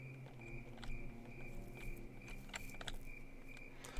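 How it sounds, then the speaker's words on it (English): Crickets chirping in the Northern Barrens zone of World of Warcraft, a faint steady high chirp repeating over soft game ambience with a few light taps and clicks. "Hear those crickets?"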